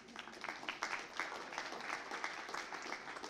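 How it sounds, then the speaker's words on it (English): Audience at a book talk applauding, a dense stream of many hands clapping at moderate level without pause, slightly distant and roomy. "So I want you all to applaud yourselves and us"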